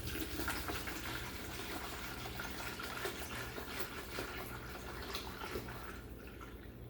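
Distilled water pouring steadily into a hydroponics container, a continuous splashing trickle that runs the whole time and tapers slightly at the end.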